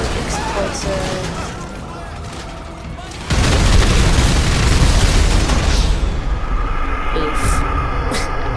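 A heavy explosive blast booms in GTA V, a sudden loud burst midway that leaves a sustained rumbling roar with scattered crackles after it.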